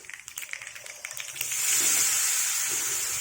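Amla and green chillies with asafoetida frying in hot oil for a chutney: a crackling, popping start gives way to a steady, loud hiss of sizzling oil that fills the rest of the moment.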